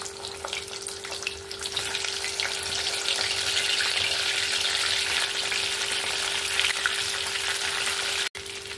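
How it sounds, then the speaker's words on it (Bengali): Chicken lollipops double-frying in well-heated oil give a steady, dense sizzle that runs unbroken throughout, with faint stirring and a brief sharp click near the end. "এখানে আমি ডবল ফ্রাই করার জন্য তেলটাকে ভালোভাবে গরম করে নিয়েছি। চিকেনগুলো আবার ছেড়ে দেব, খালি 2 মিনিটের মতো ভেজে নেব।"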